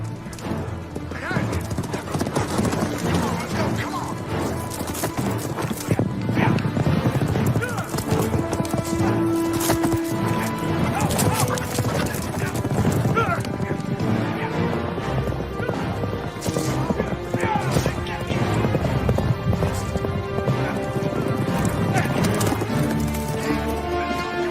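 Horses move on a Wyoming range in a 2002 Western about the Johnson County War, their hooves clip-clopping in a steady, close rhythm while a horse whinnies and neighs, with occasional knocks and birds in the background.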